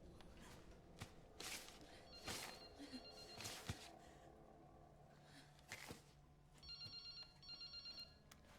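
In the video game Resident Evil Requiem, a telephone rings faintly in a quiet room. Its repeated electronic bursts come toward the end, along with scattered small thuds and shuffles.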